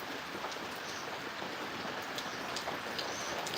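Steady rain falls continuously on a village in Punjab, a dense even hiss with occasional louder drops, heard alone without any voices.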